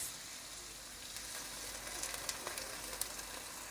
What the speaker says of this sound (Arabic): في المرحله ديت هنزل عليها بكوبايه من الميه